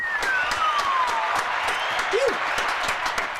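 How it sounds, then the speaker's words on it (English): A crowd at a live radio show applauding and cheering, a dense continuous wash of clapping, with a whistle-like tone sliding downward near the start. "Crowd goes wild"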